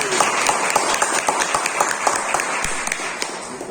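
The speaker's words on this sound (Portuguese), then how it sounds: "Uma salva de palmas para vocês." A live audience claps at the close of a spiritual talk, sustained dense applause filling the room steadily for the whole stretch with no talk over it.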